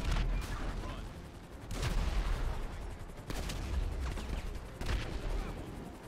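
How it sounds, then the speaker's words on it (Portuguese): A military drone fires on the player in GTA 5, bursts of rapid gunfire coming in waves about every one and a half seconds over a rumbling game soundscape, moderately loud, with no clear speech. "Galera, tem um drone militar me atirando, mano."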